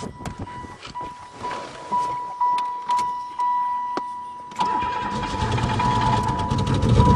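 A Pontiac engine, just drained of water, cranks in several rhythmic bursts with a steady chime in the background, then catches and runs with a rising, rough idle, loud and close.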